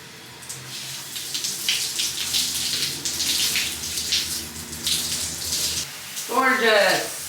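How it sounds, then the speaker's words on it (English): Water runs steadily from a newly installed shower head in a small apartment in Rome, a soft continuous hiss with a brief rising squeak near the end. "I guess we just turn on the water."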